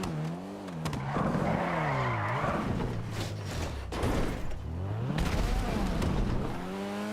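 A car in GTA Online skids and spins out, its tires squealing in long wavering arcs over revving engine noise, loud and close with brief crash-like bursts.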